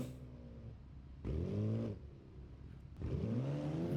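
Mercedes car engine in the BeamNG Drive driving game revving hard while drifting, rising in three surging bursts with quieter idling between them, loud and close.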